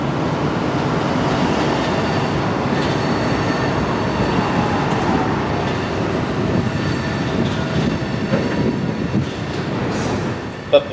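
An FEC freight train rolls steadily past on an industrial rail line in Miami, a loud continuous rumble with faint clatter of wheels and a sharp knock near the end.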